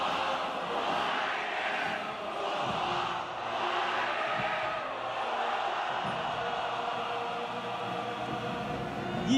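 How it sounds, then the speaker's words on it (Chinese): At the 2019 China National Day parade, a large crowd in the One Country, Two Systems contingent waves flags and cheers. Their voices form a sustained, distant roar of overlapping shouts that keeps a fairly even level throughout. "他们挥舞旗帜，欢呼致意"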